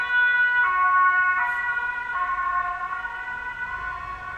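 Emergency vehicle sirens wail from a distance, a steady two-tone electronic cycle repeating for a few seconds, fairly faint and alone with no talk.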